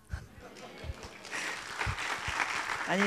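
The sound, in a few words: congregation applause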